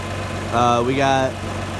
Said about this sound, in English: So this tractor should look familiar.